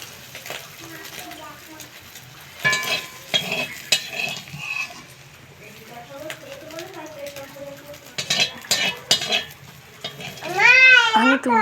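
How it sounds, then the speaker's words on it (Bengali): Round-sliced potatoes sizzle in oil in a kadai, a steady fry under intermittent spoken voices and occasional utensil clinks and stirring scrapes. "কড়াইতে তেল দিয়ে আলুগুলোকে আমি গোল গোল করে কেটে নিয়েছিলাম এবার ভেজে নেব"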